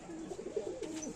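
A short burst of close pigeon cooing, a low rolling warble of a few pulses from birds kept for flying, heard alone without talk.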